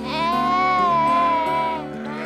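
A ewe from a group of ewes and lambs at a farm sale gives one long, loud, quavering bleat close by. The call holds for nearly two seconds, then tails off, with no voices over it.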